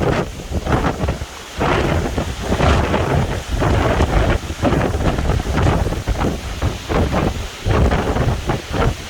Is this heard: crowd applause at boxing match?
no